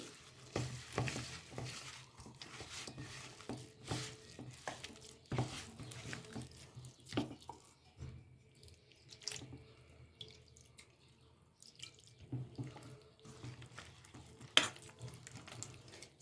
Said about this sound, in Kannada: ನೀರನ್ನು ಸ್ವಲ್ಪ ಸ್ವಲ್ಪನೇ ಹಾಕಿ ಸೇರಿಸಿ ಕಲಿಸಿಕೊಳ್ಳಿ